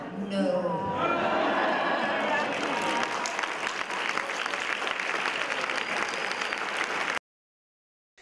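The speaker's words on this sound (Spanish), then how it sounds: "Su respuesta concitó el aplauso creciente," Audience applause at a literary event, a crowd clapping loudly and steadily for several seconds after a brief burst of voices and laughter, then cutting off abruptly.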